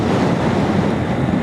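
Strong side wind buffets a Honda CB200X motorcycle on the road from Hualien in Taiwan, making a loud, close, continuous roar of wind noise with no break.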